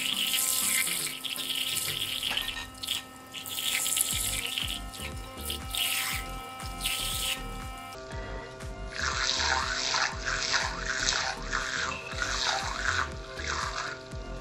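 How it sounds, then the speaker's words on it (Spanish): Sonic electric toothbrush running steadily with a continuous buzzing hum, mixed with water and brushing sounds, with a shift in tone about halfway through. "es una tecnología sónica que utilizan muchos fabricantes de cepillo de dientes eléctrico"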